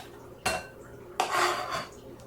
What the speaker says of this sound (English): I love working with apple. It cuts so easily.